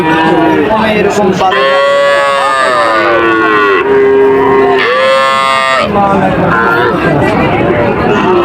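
Cattle lowing repeatedly at a busy livestock market in Bangladesh, long loud moos rising and falling over a constant crowd chatter and bargaining voices.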